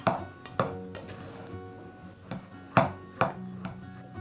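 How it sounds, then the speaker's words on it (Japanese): Cooked rice tossed with salt using a paddle in slicing, cutting strokes for plain salt rice balls, giving soft, close scraping taps in an irregular rhythm with a few sharper knocks. "こんな感じで切るようにお米の粒を潰さないように混ぜていきます"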